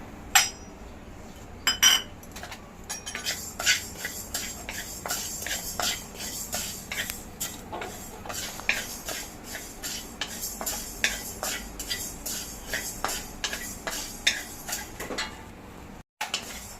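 Coriander seeds are stirred in a pan over low gas while making a biryani masala, with a steady run of close metallic scrapes and clinks from the spoon against the pan and a faint dry rustle of seeds underneath.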